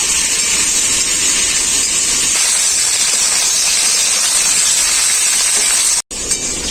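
Potatoes and flat beans fry lightly salted in hot oil with a loud, unbroken hiss that holds steady at close range and cuts out abruptly just before the end.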